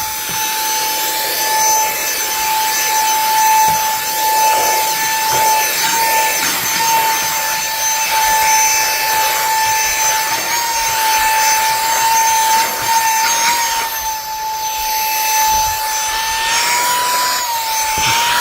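A 3-in-1 UZM portable car and home vacuum runs steadily on its second setting, giving a loud, continuous motor whine with a high tonal hum and rushing airflow that holds for the whole stretch with only a brief dip near the end.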